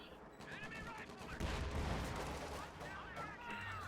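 Mortar and gunfire from a Company of Heroes 2 match, a dense, continuous wash of rumbling impacts and crackling shots that swells louder midway, with a voice talking over it.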